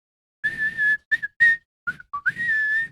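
Someone whistles a short, halting tune up close: a sustained note, a few quick chirps, then sliding notes ending in a long held tone.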